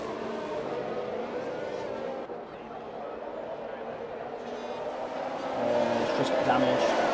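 F1 race cars in the F1 2021 game weaving across the Baku street circuit in Azerbaijan, engines droning steadily at mid distance beneath continuous commentary.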